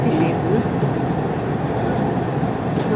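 A Dubai Metro train ride near Dubai Marina, recorded in 2013, gives a steady, loud rumble and rolling drone with a few faint rattles, while voices murmur softly underneath.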